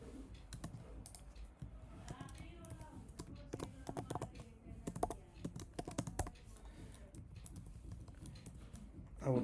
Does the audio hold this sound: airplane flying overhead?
no